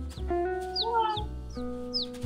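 A person mimics bird calls into a microphone, sharp chirping whistles and clucking, rooster-like sounds over a sustained, humming musical backing, loud and close.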